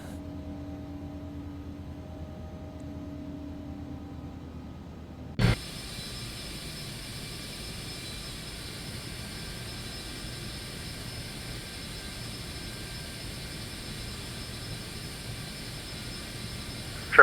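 Jet airliner engines spool up for takeoff in the X-Plane 11 flight simulator, a quiet cabin hum suddenly giving way at about five seconds to a steady, broadband engine roar that holds to the end.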